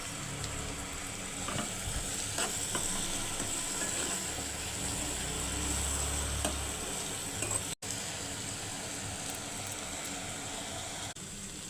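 Curry leaves and ginger garlic paste sizzle in hot oil alongside onions, a continuous dense crackling hiss close by, with occasional stirring scrapes and one brief dropout.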